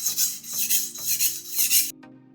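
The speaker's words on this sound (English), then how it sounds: "So we'll start scrubbing on the coarse diamond stone." Kitchen knife sharpened on a coarse diamond stone in a TSPROF Kadet guided sharpener, four close, steady rasping strokes in even rhythm ending abruptly.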